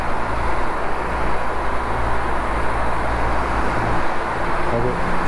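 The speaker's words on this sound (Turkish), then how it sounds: "Tünelde motorun sesi daha güzel geliyor." A BMW R1150RT motorcycle rides through a road tunnel, its engine a steady, loud, enveloping roar mixed with wind and echoing road noise, continuous throughout with no pauses.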